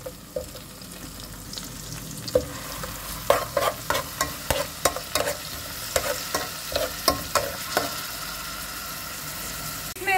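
Garlic paste and chopped ginger sizzle steadily in oil in a pot while a spoon scrapes and stirs in a quick series of knocks and clinks.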